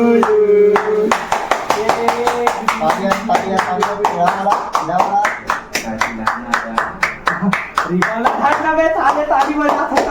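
Hands clap in a steady, rapid rhythm at a birthday celebration for Pankaj, right after the birthday song; singing voices start it off and chatter runs beneath the repeated claps.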